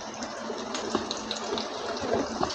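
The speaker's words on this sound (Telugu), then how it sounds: "ఆవాలు చూడండి వేగుతున్నాయి కదా" Mustard seeds spluttering in hot oil for buttermilk rasam (majjiga charu), a steady close hiss sprinkled with tiny crackles and pops, without talk.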